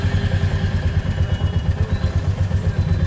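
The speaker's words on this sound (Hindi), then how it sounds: "ये देखिए अब हम मीटियोर को स्टार्ट करने वाले हैं। सो अब आप देखिए मीटियोर के वाइब्रेशंस कहाँ आते हैं।" A Royal Enfield Meteor 350 single-cylinder engine idles close by with a loud, even, low thumping pulse repeating rapidly throughout, and no talk over it.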